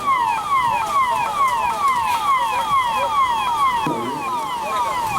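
An ambulance siren wails at a rescue site in Chhattisgarh, loud and close, with a rapid, continuous up-and-down sweep that never pauses and has no voices over it.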